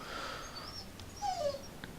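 A dog whines and gives small yips a few times, soft and somewhat distant, with brief breathy sounds over a quiet background hum.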